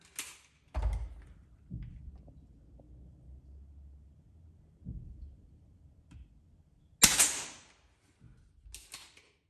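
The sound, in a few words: Umarex SPA 100 .177 break barrel air pistol shooting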